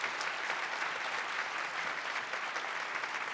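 Steady, even applause from the audience at a mayoral forum on community and environmental issues, a continuous wash of many hands clapping without talk over it.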